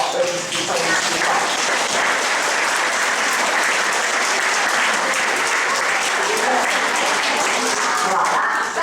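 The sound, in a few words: children applauding at an exhibition opening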